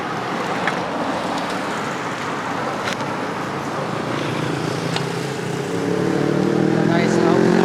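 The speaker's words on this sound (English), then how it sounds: "all these stupid motorcycles that are so noisy" Loud motorcycle engines on a street near Canning Garden and the Polo Ground. Traffic rumbles throughout and an engine swells near the end, with someone talking over it.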